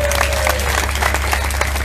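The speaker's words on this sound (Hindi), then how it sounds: "ठोको ताली" Crowd applauding at a political speech in Kaithal, dense loud clapping from many hands with a steady electrical hum underneath, alone and continuous.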